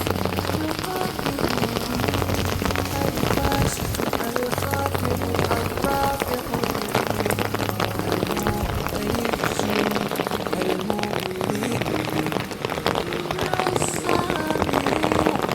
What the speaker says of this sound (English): Now it's time for mini ASMR rain video for you guys.